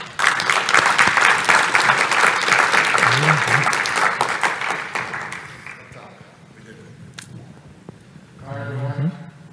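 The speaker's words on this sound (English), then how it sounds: "Don't you all give yourselves a round of applause right now?" An audience applauds loudly for several seconds, then the clapping thins and fades, with a voice briefly audible near the end.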